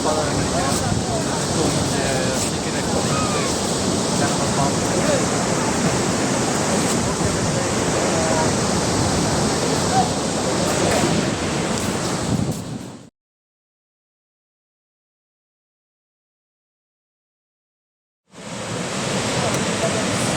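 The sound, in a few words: waterfall in Karnataka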